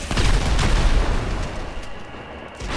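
Gunfire from a character in the video game GTA 5 during a bowling versus RPG team match, a loud rumbling burst of shots and booms that fades after a second and then returns faintly.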